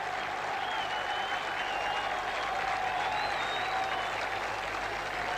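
A stadium crowd of Greek and London supporters in Piraeus, near Athens, cheers and applauds at a football match between Chelsea and Real Madrid, a steady dense roar of clapping and voices with whistles rising above it, no spoken words.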